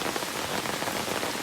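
Steady rain patters densely on surfaces at Litalip, an even, close, continuous hiss with no voices.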